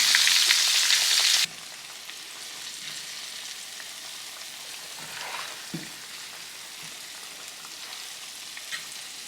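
Venison crackles and sizzles as it deep fries in hot oil, loud at first and then settling into a quieter, continuous bubbling hiss with occasional pops.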